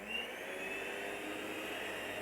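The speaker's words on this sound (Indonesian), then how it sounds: "Ini akan saya mixer pelan dulu ya Bunda" Electric hand mixer whirring steadily at low speed through nastar cookie dough with butter, a continuous smooth motor hum with no talking.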